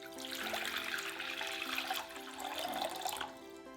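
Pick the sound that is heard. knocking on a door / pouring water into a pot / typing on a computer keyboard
pouring water into a pot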